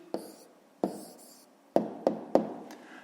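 A pen or marker writes an answer by hand on a board, giving five sharp taps and short scratchy strokes, close and fairly quiet, with pauses between them.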